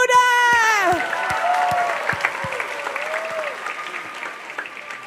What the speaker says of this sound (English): Put your hands for Dakota!